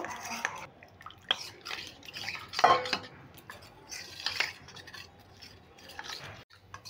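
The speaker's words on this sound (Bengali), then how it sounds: "ভালো করে মিশিয়ে একটা ব্যাটার করে নেব।" Batter for vegetarian chili paneer being mixed with salt in a bowl, uneven clinks and scrapes of a utensil against the bowl with wet stirring, close up in a quiet kitchen.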